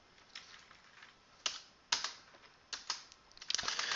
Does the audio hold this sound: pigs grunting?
no